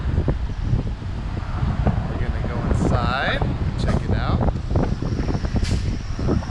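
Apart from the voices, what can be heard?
wind blowing into the microphone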